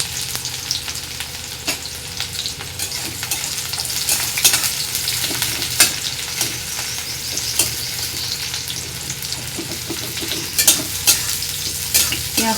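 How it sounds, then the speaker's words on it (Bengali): A small amount of onion fries in a pan with a continuous close sizzle, as a spatula stirs and knocks against the metal in frequent sharp scrapes and clicks. "পেঁয়াজটা একটু লাল লাল করে ভেজে শাকটা দিয়ে দেবো।"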